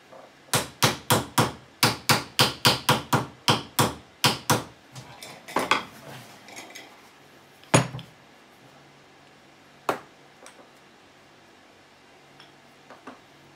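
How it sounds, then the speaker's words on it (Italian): Hammer blows ring out on an old bench grinder under repair, about fifteen sharp, evenly spaced metallic strikes in a fast run, then a few scattered louder knocks and faint clatter as things settle. "Ora, 4 martellate giusto per dargli una sistemata."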